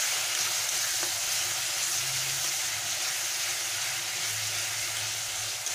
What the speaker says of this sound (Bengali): যতক্ষণ না কাঁচা গন্ধটা যায় ততক্ষণ আমি এটা নাড়তে থাকবো।